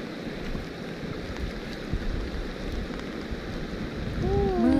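Steady rain falls outdoors in rural northeastern Thailand, a dense, even hiss that swells slightly louder near the end, with a brief tonal squeal at the close.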